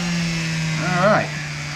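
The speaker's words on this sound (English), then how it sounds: "So I'm going to swap out to my buffing wheel." Electric buffing wheel spinning on a Nissan KA24DE cylinder head, a steady close whine that dips and wavers briefly as the wheel loads, continuous and loud throughout.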